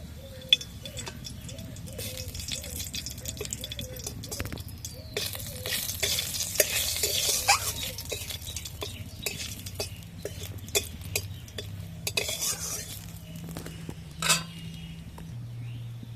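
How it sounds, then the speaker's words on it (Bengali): Black cumin seeds and two dried red chillies tempering in a little hot oil for yogurt okra: a steady crackling sizzle with light clinks and taps of a spoon against the pan, close up and without speech. "একটু কালো জিরে ফোড়ন দিলাম শুকনো লঙ্কা দিয়ে দিলাম দুটো"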